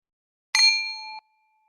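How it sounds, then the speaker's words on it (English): A single bell dings once, bright and clear with a ringing tone that decays over about half a second, alone in silence. "I'm going to ding my bell"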